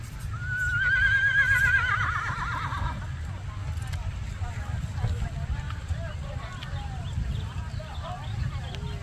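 A horse whinnies loudly near the start, then lopes home after a barrel race run, its hoofbeats blending into steady low rumble and wind-like noise for the rest.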